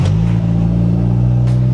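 Steady low engine rumble from a Holden EG Hatch car, running loud and close throughout with little change in pitch.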